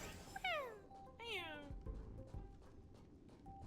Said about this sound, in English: My cat's gonna come out now, like wondering what the hell noise I'm making.